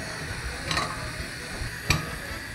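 Onion sizzling softly in olive oil, a continuous crackling hiss with a couple of sharper clicks from stirring.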